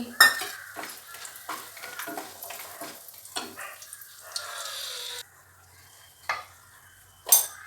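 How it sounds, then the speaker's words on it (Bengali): Bori, small lentil dumplings, frying in hot mustard oil, with a steady hiss broken by repeated scraping stirs and clinks of a utensil against the pan, then quieter pauses and a couple of sharp knocks near the end. "তেল গরম হয়ে গেছে এবার বড়ি ভেজে নিচ্ছি"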